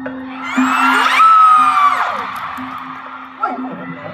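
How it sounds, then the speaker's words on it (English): Crowd cheering at a Kim Seon Ho fan meeting in a large arena, loud whoops and high-pitched screams rising and swelling, then easing before another burst of shouting. "I-cheer natin sila guys ha"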